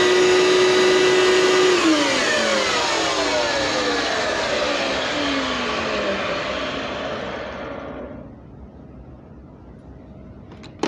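A Hoover SteamVac carpet cleaner switches on and runs loudly, a steady motor whine and broadband roar with descending tones as it settles, then fades and cuts off near the end.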